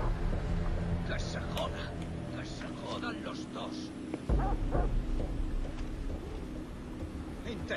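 A dog barks and yips in Far Cry 3, with a few sharp, fairly close barks mixed into steady game ambience and a sudden heavy thump partway through.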